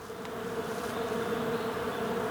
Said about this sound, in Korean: 꿀벌 소리입니다.